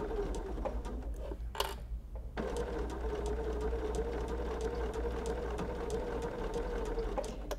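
A sewing machine zigzag-stitches binding along the edge of a cuddle strip quilt, a steady close mechanical whir with rapid rhythmic needle ticking, briefly pausing near the start before running continuously.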